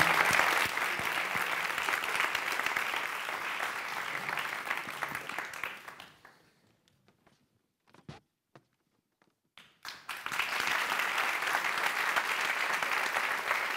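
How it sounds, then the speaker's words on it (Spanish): Loud, dense audience applause fills an indoor hall at a press-freedom event, fading to near silence midway with a few scattered taps, then swelling back to full clapping. "un aplauso para Saidati Mukako Bibi"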